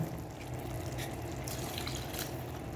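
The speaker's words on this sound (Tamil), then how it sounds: "தண்ணி ஆட் பண்ணிவிட்டேன்." Water runs steadily into a pan of cooking kadai chicken with a low, continuous splashing wash and faint bubbling, close by and without talk.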